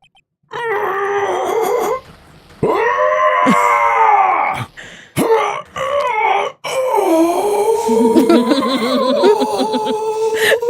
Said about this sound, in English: That scream. I've heard that scream before.